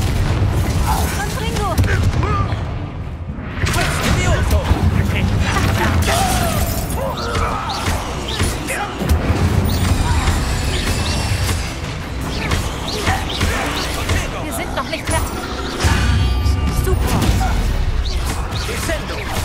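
Confringo fire-spell blasts go off repeatedly during a Hogwarts Legacy mine battle, loud booming explosions and crackling debris in a busy combat mix, with voices shouting over the fighting.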